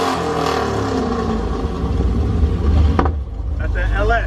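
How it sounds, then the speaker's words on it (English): A Chevrolet LS engine revs loud and close at a car meet in Dallas, a dense, steady roar with a brief dip near the end while voices talk over it. "That's that LS. That's that LS sound."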